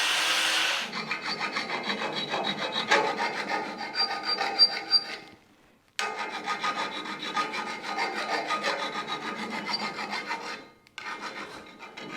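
Overly long metal wheel studs, nearly 50mm, are cut down with a rasping, sawing stroke pattern, a continuous gritty grind in two long close passes separated by a short pause.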